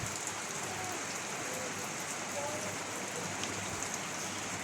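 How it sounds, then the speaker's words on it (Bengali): Heavy rain falls in an even, continuous hiss around a village feast gathering under a canopy, with a faint murmur of distant voices beneath the downpour. "অনেক বৃষ্টি পড়তেছে।"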